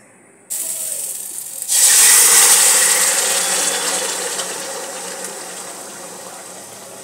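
A flour and milk mixture poured into milk in a hot wok gives a sudden loud hissing sizzle that swells and then slowly fades, after a brief quieter stir at the start.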